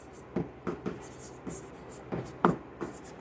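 Marker or chalk strokes on a classroom board during a chemistry lesson come as a series of short, close scratching taps in an irregular writing rhythm.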